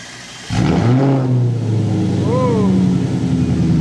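An Audi RS5 V8 with a Z-pipe and H-pipe and no mufflers starts up with a sudden bark, then settles into a loud, deep burbling idle. A couple of quick revs rise and fall near the end.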